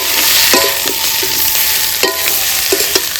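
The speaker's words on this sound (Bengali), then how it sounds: "পেঁয়াজ কুচি দিয়ে অল্প করে মশলা দিয়ে রান্না করবো।" Potatoes and pointed gourd stir-fried with chopped onion and spices in a pan, a steady close sizzle with several sharp scraping stirs of a spatula at irregular intervals.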